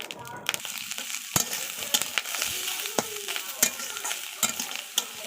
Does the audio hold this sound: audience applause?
no